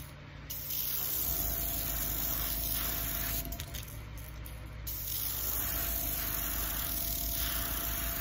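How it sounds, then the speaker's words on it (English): An airbrush sprays paint onto a bass lure in a steady, continuous hiss, close and even, with a brief sputtering dip midway suggesting a bubble in the airbrush. "airbrush has got a bubble or something in it."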